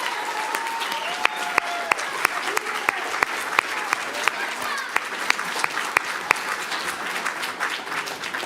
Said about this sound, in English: If we'll give them a round of applause